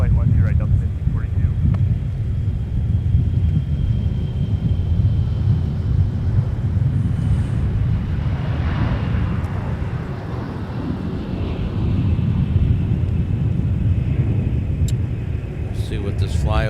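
A Delta Connection CRJ 900 jet operated by Endeavor Air at Minneapolis–St. Paul airport, a steady loud broadband roar sustained throughout, with a faint whine above it, and no speech.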